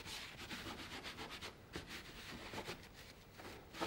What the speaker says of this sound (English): So I'm just lifting off the excess paint here.